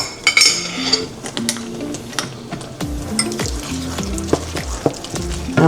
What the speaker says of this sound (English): I'm gonna go ahead and put my rice into my saute pan.